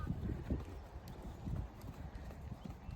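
Horse hooves thudding in a quick, uneven rhythm over a show jumping course, fairly faint and close, with no talk.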